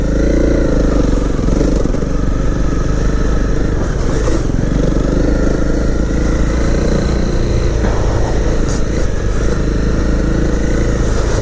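A 2018 Honda CRF250L motorcycle running along a country lane, its single-cylinder engine droning loud and close with rising throttle and steady mechanical clatter, no talk over it.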